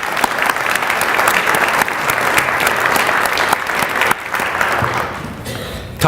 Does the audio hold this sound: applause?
yes